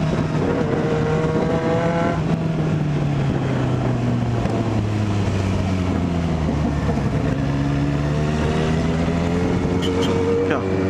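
Honda Hornet motorcycle engine revving and accelerating, a loud sustained drone whose pitch sweeps up and down repeatedly over several seconds, with people talking over it.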